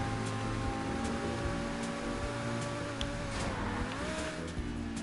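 A car engine at full throttle in GTA 5 Online, a loud sustained drone whose pitch holds steady and then dips and rises, with faint ticking on top.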